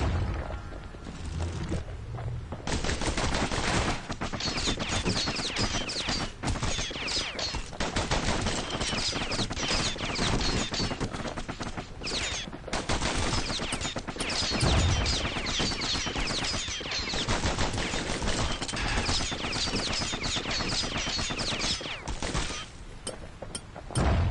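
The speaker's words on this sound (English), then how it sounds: "Know what's better than having a slinger pistol in a fight? Having two." Dual slinger pistols firing rapidly in the video game Bastion, a dense, sustained stream of sharp, loud shots with booming impacts running almost without pause for over twenty seconds.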